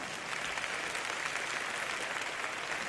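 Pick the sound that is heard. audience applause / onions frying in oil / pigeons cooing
audience applause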